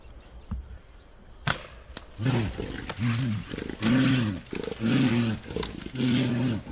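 A bear caught in a poachers' steel jaw trap, roaring and groaning in loud repeated bursts after a sharp knock, with rough breathy cries rising and falling close by.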